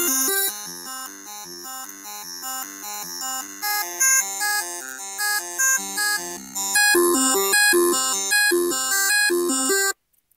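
NES-style chiptune song on two square-wave channels and a triangle channel, generated in JavaScript; bright, steady melodic beeps and arpeggios play continuously for about ten seconds, then stop abruptly.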